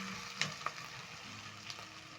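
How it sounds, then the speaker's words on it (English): Onions fry gently in a pot with cardamom pods and black peppercorns added, a soft continuous sizzle marked by a couple of light clicks and taps of the spoon or spices dropping in. "As my onions are cooking, I'm going to be adding in some cardamom pods and black pepper pods."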